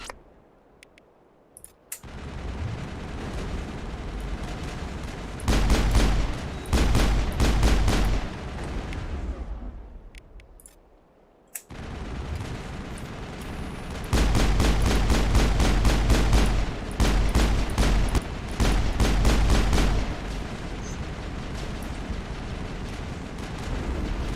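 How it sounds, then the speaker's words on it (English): Gunfire in the video game Mass Effect: bursts of rapid automatic shots and heavy blasts in two long volleys, separated by quieter stretches, loud and dense with a low booming floor. "Manovai is under coordinated crossfire."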